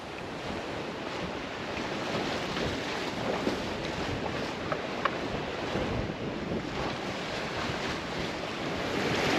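A sailboat runs downwind through moderate waves on open sea, steady rushing water and hiss of surf with gusting wind buffeting the microphone, continuous and fairly loud throughout.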